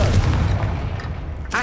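Confringo spell blast in Hogwarts Legacy, a heavy low boom that rolls and decays over about a second, ending with a brief brighter burst.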